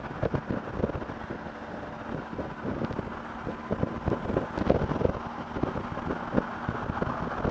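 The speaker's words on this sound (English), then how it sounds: "oh boy, it's windy today" Gusty wind buffets the microphone with low rumbling thumps and uneven bursts, continuous throughout and fairly loud.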